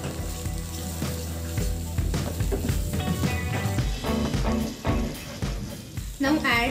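Soy sauce and tomato ketchup hit a hot pan for chutagi, a Ladakhi pasta dish, giving steady sizzling and frying with stirring clatter, heard close, with talking over it.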